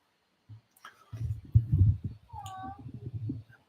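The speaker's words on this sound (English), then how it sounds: "And the cat's meowing." A cat meows a couple of times, a drawn-out wavering call clear above a low murmur of nearby talk and rustling indoors.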